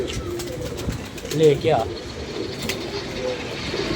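Pigeons coo in a rooftop loft where they are hand-fed grain: a couple of short, low, throaty coos sound close by in the middle, set against a steady outdoor background while people speak briefly nearby.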